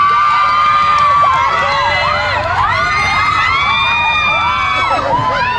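A crowd of fans shouts, screams and cheers loudly for an actor at a film promotion event, sustained high-pitched whoops and yells forming a continuous roar.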